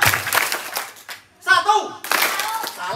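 Children clapping their hands in a counting game at a Quran school, with rapid bursts of claps broken by a short gap where a voice speaks, then more clapping running under talk.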